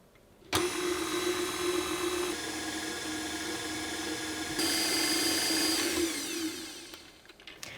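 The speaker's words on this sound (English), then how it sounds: "whisk all that together until it's nice and smooth" An electric mixer whisks icing sugar, vanilla and cream cheese into frosting for cinnamon rolls. It starts with a sudden whir, then holds a loud, close, steady motor whine, stepping up in speed partway through before winding down.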